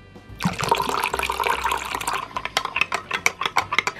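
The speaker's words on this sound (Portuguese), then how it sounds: "acrescentamos 150 ml de água" About 150 ml of water is poured into a dish for blue gelatin, starting as a steady splashing stream and breaking into a series of drips and small splashes near the end.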